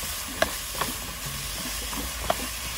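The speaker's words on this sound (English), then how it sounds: "the purpose of frying these now is to make sure later on when you cook them in the curry, they wouldn't break easily" Ingredients for Vietnamese chicken curry fry in a pan with a soft, even sizzle, broken by a few sharp utensil clicks and taps.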